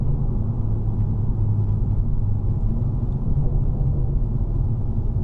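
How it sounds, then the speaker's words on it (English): A BMW F22 M235i pulls hard in a low gear, its engine a loud, dense low rumble that holds steady and close throughout with no voices. "So we're gonna drop down some gears here, and I'll do a couple of pulls for you."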